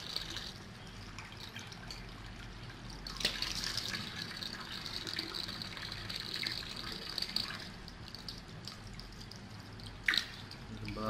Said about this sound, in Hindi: अभी मुंह धो रहे हैं